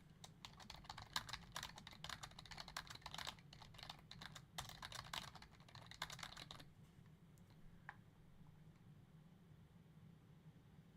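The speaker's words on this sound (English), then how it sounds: "I'm typing this out." Quick, faint clatter of keys on a computer keyboard runs for about six seconds of steady typing, then stops, leaving quiet room noise.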